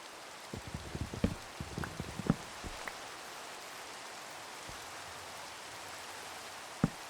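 Rain falling in Minecraft, a faint steady hiss of drizzle with scattered soft droplet taps, busier early on and then thinning to a quiet wash with one last tap near the end.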